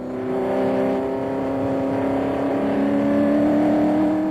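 Race car engine accelerating hard in 1968 onboard running at the Le Mans circuit, heading under the Dunlop Bridge and downhill; a loud, steady close engine drone with rising pitch, no talking.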